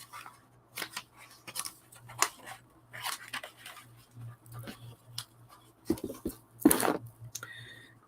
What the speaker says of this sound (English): Let me get my scissors.